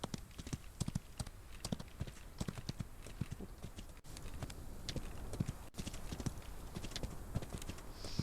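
Horse hooves clip-clopping in the video game Outlaws of the Old West, a steady run of hoof strikes close up over a continuous ambient bed, with no talking.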